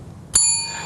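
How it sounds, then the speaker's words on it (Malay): A single bright strike of a small hand bell, rung to signal that a classroom exercise is over, a sharp ding whose ringing tone lingers and slowly fades. "bunyikan loceng menandakan masa sudah pun tamat"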